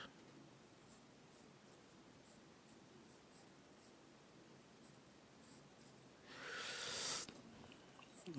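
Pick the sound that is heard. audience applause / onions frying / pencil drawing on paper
pencil drawing on paper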